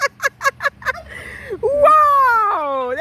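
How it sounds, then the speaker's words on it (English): Turkeys gobble close by, starting with a quick series of rapid rattling gobbles and then giving way to drawn-out, wavering calls, loud and up front in a backyard garden. "Hello, turkeys."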